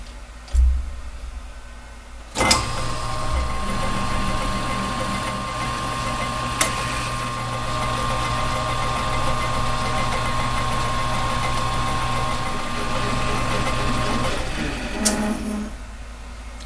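A metal lathe runs steadily as it cuts a shoulder on a workpiece down to 1.375 inches on an offset eccentric cam job, with a constant motor hum and steady whine that start and stop with a clunk.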